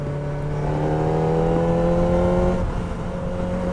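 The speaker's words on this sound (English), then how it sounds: "Listen to that. There's a lot to be said for a bike revving at 14, 15," A Kawasaki ZX-4RR motorcycle's small inline-four engine screams at very high RPM, a steady loud near wail that holds its pitch, dips slightly, then climbs again, with no talk over it.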